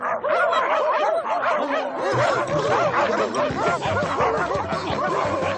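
A dog in a cartoon barks and yips repeatedly in a rapid, dense, loud run of sharp calls, with snickering, laugh-like sounds mixed in.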